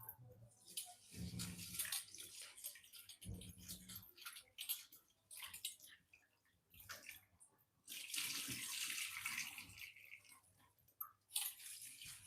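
Soaked rice is washed in water for Konkan-style neer dosa, with repeated swishing, sloshing and pouring in irregular bursts, close by and fairly quiet, separated by short pauses.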